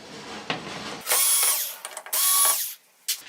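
A powered screwdriver removes screws from the main board of a Samsung UN60FH6003 TV, whirring in two short close bursts separated by light clicks and handling noise.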